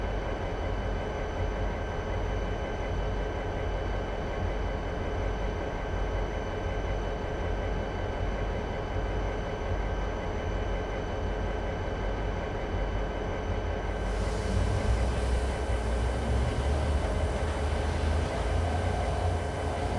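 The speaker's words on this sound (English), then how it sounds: "So I can move the train successfully now." Subway train moving in a Customia Railroad game, a steady rumbling drone with a continuous mechanical hum that gets louder and rougher toward the end.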